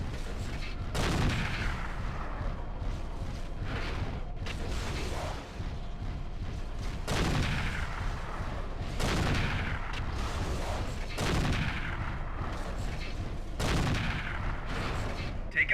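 Mechs in MechWarrior 4 fire MRM missiles in repeated salvos, each a rushing, booming burst of launches that swells and fades, recurring every couple of seconds over a steady rumbling battle backdrop.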